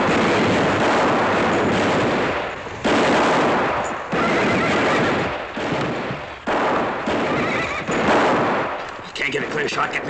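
Dense, sustained gunfire rattles through a western shootout, with rapid overlapping shots and loud blasts filling the scene almost without pause, some bursts briefly dipping before resuming at full intensity.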